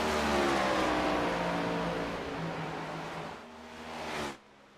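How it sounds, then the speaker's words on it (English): Race car engine in a Kansas Speedway esports racing game, a loud sustained roar that eases off, briefly swells again, then cuts out abruptly, leaving a faint background hum. "Hear that car shutting down."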